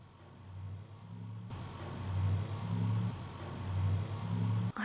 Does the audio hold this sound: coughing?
no